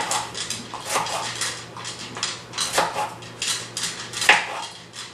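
A kitchen knife cuts into a whole apple being prepared as a baked bloomin' caramel apple dessert, giving a few crisp, sharp cuts and light clinks of blade on board and dishes, close and moderately loud.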